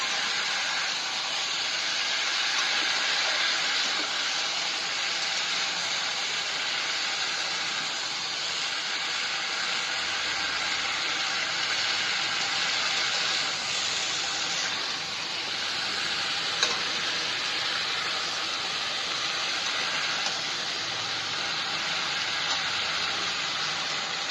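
Cauliflower, potato and tomato frying in a pan, a loud, steady sizzle and hiss that continues unbroken throughout, with no voices.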